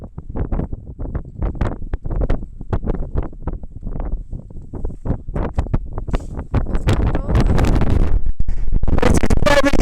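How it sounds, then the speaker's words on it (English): Strong gusts of wind on the hill fort of Moel Arthur in the Clwydian Range, North Wales, buffet the microphone in loud, irregular bursts, growing into a constant roar near the end. "I don't know if you can even hear me with all this wind about"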